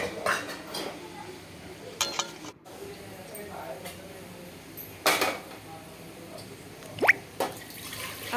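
Cooked dal is moved into another cooking pot, with scattered light clinks and scrapes of metal utensils and a few soft drips and splashes, fairly quiet, with occasional talk in Hindi.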